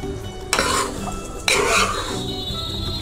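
Gram flour (besan) being stirred into a Punjabi-style besan burfi mixture in a pan, with two firm scraping strokes over a soft steady sizzle and faint clinks of the utensil.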